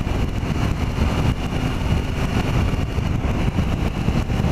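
Triumph Tiger 800 XRX 2015 motorcycle with a triple engine, heard onboard while riding in second gear: a steady, close, continuous engine drone with wind rush, no voices.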